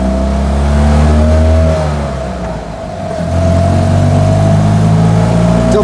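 A loud small-car engine in a Fiat 500-based Impala Moke-type car revs hard nearby, the drone dipping briefly during a double-declutched gear change before surging back up.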